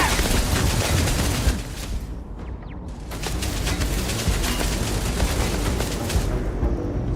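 Rapid gunfire in Starfield, dense bursts of shots and booming impacts crackling continuously, a brief lull near the middle, then the volley resumes loud and sustained.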